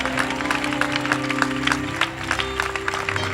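Church congregation clapping and cheering in acclaim of the Lord Jesus during a sermon, a dense, steady roar of applause sustained throughout with a low organ or keyboard drone underneath.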